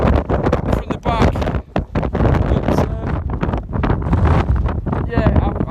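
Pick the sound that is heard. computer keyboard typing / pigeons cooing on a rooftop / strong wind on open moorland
strong wind on open moorland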